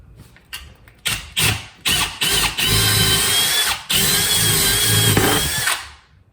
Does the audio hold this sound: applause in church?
no